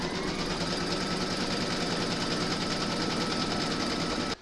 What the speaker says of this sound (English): you're going to stitch round number 1